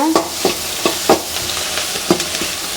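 Vegetables frying in oil in a pan for egg fried rice are stirred briskly. Loud, close spatula scrapes land in a quick uneven rhythm over a constant sizzle.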